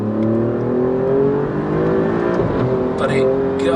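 An Alfa Romeo Giulia Quadrifoglio accelerates hard, its engine note rising steadily in a loud, continuous pull heard from inside the car, with a brief gear-change break near the end.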